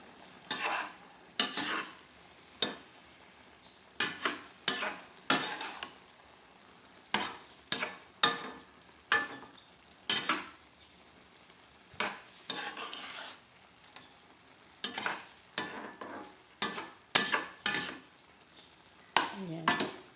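Ground pork frying in a pan is stirred in short bursts, each stroke a quick scrape and clatter against the pan, repeated irregularly over a faint sizzle, close by with no talking.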